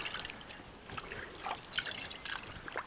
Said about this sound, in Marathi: परत एकदा थोडंसं पाणी ओतून ह्याला स्वच्छ करून घेऊया